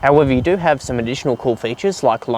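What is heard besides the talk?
No everyday noises stand out.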